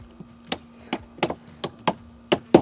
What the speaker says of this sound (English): Gotta use the hammer.